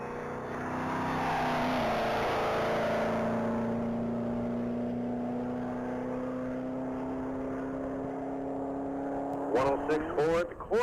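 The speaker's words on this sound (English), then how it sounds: "That's going to be Fred Howard and his black 2012 Chevrolet Camaro SS." Black 2012 Chevrolet Camaro SS on race tires running at top speed in a mile-long speed event, a sustained whining engine drone that rises then holds steady at a distance, with brief voices near the end.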